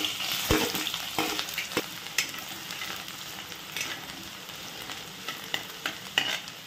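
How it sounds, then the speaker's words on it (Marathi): Chopped onion fries in hot oil with crushed garlic, sizzling steadily up close while a spoon scrapes and knocks against the pan at irregular intervals. "यामध्ये कांदा टाकून घेऊया आता आपण।"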